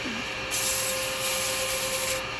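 Steady, close rasping of sandpaper rubbing against a wooden nutcracker turning on a lathe, a continuous scratchy hiss that swells slightly partway through.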